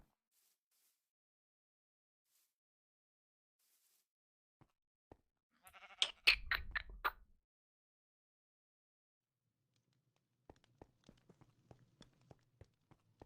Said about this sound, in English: the sheep on the roof is still kicking around